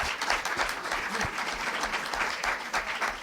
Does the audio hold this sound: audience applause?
yes